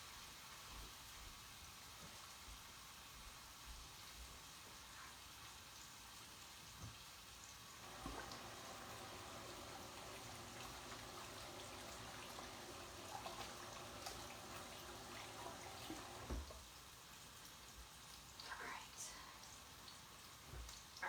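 A kitchen sink tap runs while hands are washed, a faint, steady hiss of water lasting several seconds in the middle, quiet before and after.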